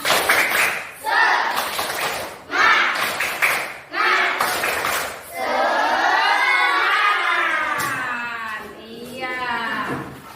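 A classroom of students performs a rhythmic spirit clap, several loud clustered bursts of clapping in a patterned beat, followed by the class voicing a chant together.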